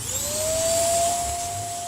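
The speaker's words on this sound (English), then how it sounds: "So let me vacuum it out before I pull that screen." A vacuum cleaner sucks debris from around an engine's carburetor during an oil and filter change, a close, steady whine rising in pitch as it spins up and holding over a low hum.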